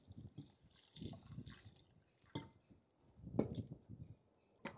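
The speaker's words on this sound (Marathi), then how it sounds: "ती आपण आता स्वच्छ पाण्याने पहिले धुवून घेऊ।" About 100 to 150 grams of mung dal is rinsed in a bowl with clean water, making soft, close, intermittent sloshes, squishes and drips with short quiet gaps between.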